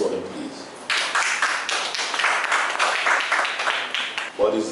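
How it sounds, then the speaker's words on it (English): Crowd applause breaks out after a quiet moment and keeps going steadily for several seconds, a dense patter of many hands clapping at once. "A round of applause for him, please."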